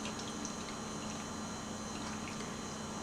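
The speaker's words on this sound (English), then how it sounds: "So you pour that stop bath right in" Stop bath chemical being poured into a film developing tank, a steady, quiet liquid wash with faint trickling, continuous and close throughout.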